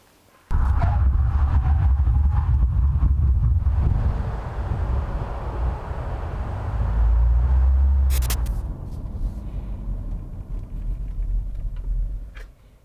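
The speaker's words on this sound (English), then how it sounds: "Now let me show you the braking performance of 2019 Kia Sportage." A 2019 Kia Sportage SUV on 245/45R19 tyres brakes hard during a test drive, a loud rumbling road and wind roar building then easing as the vehicle slows to a stop, with no talk.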